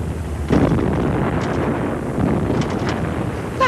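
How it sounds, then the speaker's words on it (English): Bombs explode during an air raid in the Southampton Blitz as heavy, rumbling booms swell in at intervals over a roaring, wind-like background. "And then the bombs began to drop, at first away from us,"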